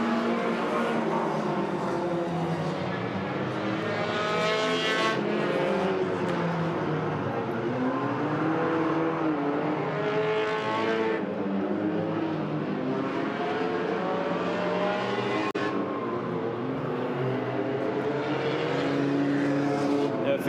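Hornet race cars run an enduro on the Agassiz Speedway roval in British Columbia, several engines droning and revving as cars pass by in waves, loud and continuous.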